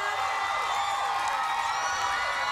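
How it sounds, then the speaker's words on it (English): A studio audience at a morning TV show cheers and whoops in a steady, dense wash of crowd noise, with faint voices mixed in. "Don't stop the applause"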